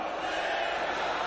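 A large rally crowd in Chhattisgarh shouts in sustained, dense roar, a loud continuous wall of many voices with no pauses.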